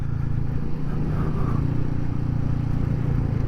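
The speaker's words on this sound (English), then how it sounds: "This motor will just chug. It is a chugger." Motor chugging at low speed while driving over pea gravel, a steady low rumbling drone throughout, close and moderately loud, with no talking.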